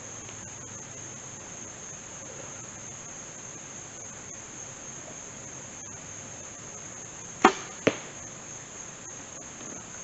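Over a steady insect-like hum, a sharp snap and thud of a bow releasing an arrow, followed moments later by a second softer impact.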